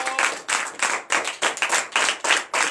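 A church congregation at a night deliverance prayer service in Benin claps in unison, about ten loud, steady rhythmic claps filling the space with no voices over them.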